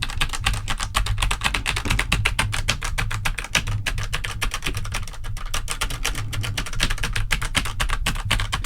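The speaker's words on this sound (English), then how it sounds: "Take a listen to how much less keyboard noise is picked up by the microphone" Fast, continuous typing on a computer keyboard, a dense patter of key clicks heard close up with no voices.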